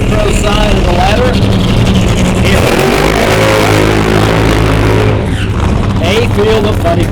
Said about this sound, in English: A field of funny cars.